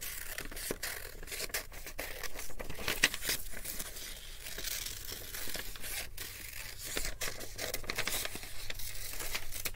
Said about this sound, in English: I'm going to cut around on the black lines